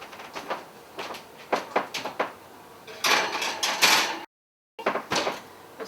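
Zucchini hermit cookies on a baking tray slide into a preheated 375 degree home oven, with clattering metal and clunks followed by the oven door thumping shut, close and moderately loud, no talk.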